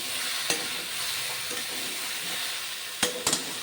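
Ridge gourd curry cooking in a pan with a little oil, a continuous hissing sizzle broken by a few sharp scrapes and knocks as it is stirred, close and steady, without speech.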